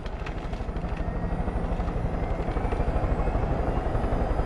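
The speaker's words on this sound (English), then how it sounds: "Oh, a helicopter." A helicopter in the video game Far Cry 5 hovers close by with a loud, steady rapid rotor chop and engine whine that carries on without a break.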